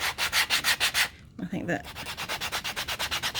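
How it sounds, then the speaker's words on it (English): A sanding block rubbing down the edge of a knife sheath in quick, even back-and-forth strokes, close and loud, with a short pause where a voice briefly speaks before the rhythmic scraping resumes. "what we're going to do now is just rub that edge down a bit"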